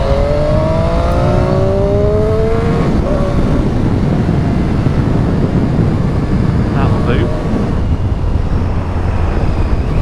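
A 2019 Triumph Street Triple 765 motorcycle accelerating to overtake on the road, a steady loud engine drone mixed with heavy wind rush, with rising engine tones early on.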